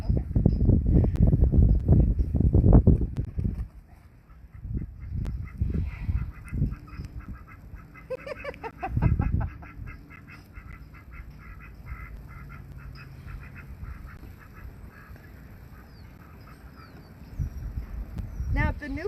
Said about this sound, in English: her little quacks are so cute.